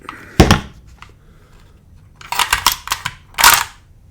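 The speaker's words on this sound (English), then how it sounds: "Take the stock pin out." Stock pin being pushed out of an HK MP5 submachine gun: a sharp metallic click, a faint tick, then a cluster of quick metal clacks and rattles and a final louder clack, all close and with no talking.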